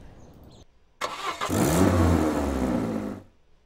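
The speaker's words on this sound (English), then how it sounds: "Was the car too loud compared to me?" A car engine in the video game This is the Police revs up loudly and holds a steady drone for a couple of seconds before cutting off, after a brief quiet start.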